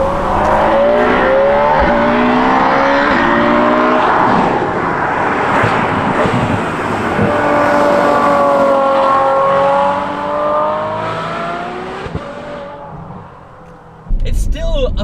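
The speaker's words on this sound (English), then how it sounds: "It's still a phenomenal sound, but where the Largo is magic is that it maintains this beautiful tone, that V12 howl" A Ferrari V12 with an aftermarket Novitec exhaust, likely on an F12-based N Largo, revs loudly close by, its howling tone rising and falling in repeated sweeps before easing off near the end with a brief clunk.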